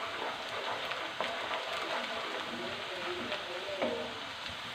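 Onions fry in a pan with cumin seeds for a dhaba-style chana dal tadka, giving a soft, steady sizzle with occasional light crackles and stirring scrapes, fairly quiet and close.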